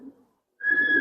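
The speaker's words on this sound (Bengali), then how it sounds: "সবচেয়ে দ্রুত গতির কবুতর আমার বাসার" Giribaz racing pigeons at a home loft give a close, steady cooing that starts after a short quiet pause and carries on to the end, following a brief low rustle at the start.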